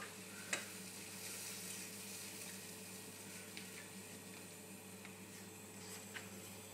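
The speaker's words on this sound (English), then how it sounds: "now I'm just going to increase the flame, because now the tomato needs to cook" Tomato cooking in a pan on a stovetop flame sizzles faintly and steadily, with a few small clinks of utensils.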